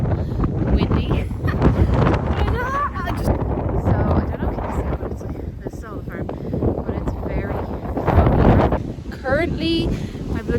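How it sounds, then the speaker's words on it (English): Gusty wind buffets the microphone outdoors on a walk, a loud, continuous roar throughout, with a person talking over it. "It's so windy."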